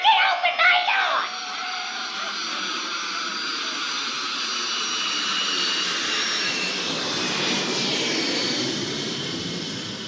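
Jet aircraft in flight, a loud continuous roar with broad hiss after a brief burst of sound at the start, holding steady for about ten seconds and sweeping gradually.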